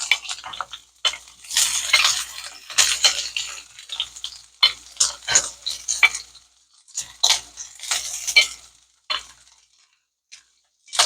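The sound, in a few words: ackee, saltfish, chocho and garlic sauteing in a pan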